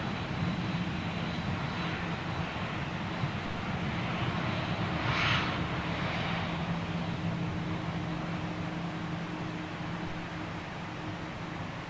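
A TUI Boeing 787 Dreamliner jet at Gatwick gives a steady, broad engine roar that holds for about twelve seconds, with a slight swell near the middle and no talk over it.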